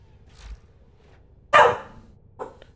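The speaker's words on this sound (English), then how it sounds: "Sounds like a really whiny dog out there barking" A whiny dog barks outdoors in a few short bursts, one louder yelp standing out in the middle and a softer bark near the end, each fairly distant with quiet gaps between.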